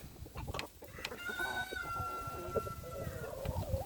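Chickens cluck and murmur nearby in a backyard flock, and a rooster-like call stretches out in the middle over soft background noise.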